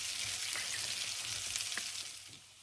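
Sweet potatoes sizzle in a pan, a soft, even frying hiss with a few faint clicks that fades slightly at the end, no voices.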